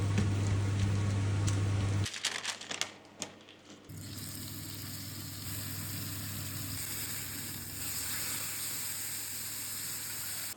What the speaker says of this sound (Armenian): Հալացնում ենք կարագը ու վրձինով այսպես սկսում ենք մեր հացերի վրա ու հացերը տապակում ենք